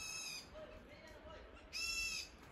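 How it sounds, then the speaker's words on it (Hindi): Birds call softly in a deep forest at night: faint high, tonal calls repeat a few times over a quiet background, distant and sparse. "यहाँ पर परिंदों की आवाज़ें आ रही हैं"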